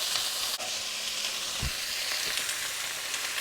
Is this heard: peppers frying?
yes